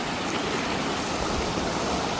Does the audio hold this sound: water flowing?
yes